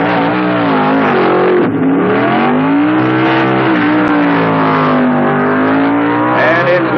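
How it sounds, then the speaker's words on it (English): At the 1970 NHRA US Nationals, a Chrysler-powered Chevy II and a Camaro drag racer launch side by side, their loud, sustained engine roar rising and wavering in pitch without pause. "That Chevy 2 has Chrysler power, incidentally. He'll be running in the near lane, and Bruce Larson in the Camaro will be in the far lane"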